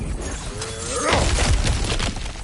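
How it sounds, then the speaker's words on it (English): Objects shatter and crash as a player smashes through them in a video game, a short burst of breaking debris with a whooshing rush of noise, loud and close. "back to smashing through things for fun and profit"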